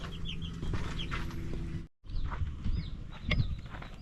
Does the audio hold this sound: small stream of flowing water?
no